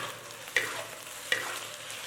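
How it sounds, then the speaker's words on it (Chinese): Marinated chicken breast slices stir-fried in hot oil in a pan: a steady close sizzle broken by two sharp spatula clacks against the pan, with no talking. "再翻炒几下"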